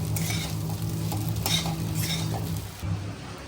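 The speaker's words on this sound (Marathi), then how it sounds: "आता आपण या आपलं साबुदाना शेंगदाण्याचं मिश्रण टाकून घेऊ आणि छोट्या गॅस करून छान खिचडी अशी परतून घेऊ" Sabudana khichdi with peanuts and potato is stir-fried in a pan over low heat, giving a soft steady sizzle with scraping and stirring of a utensil against the pan, close and moderately quiet.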